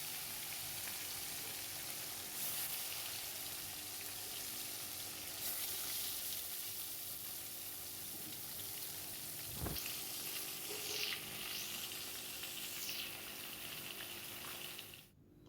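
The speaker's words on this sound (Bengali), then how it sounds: "আমি এবারে মাছটা ভেজে নেব।" Fish fries in a pan in a home kitchen: a soft, steady sizzle and crackle runs the whole way through, with a few brief clinks and no talking.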